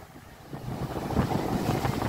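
A steady wind blows across a small fishing boat out on a slightly choppy, murky sea during mullet fishing. The rushing gusts buffet the microphone, with faint water movement beneath and no voices.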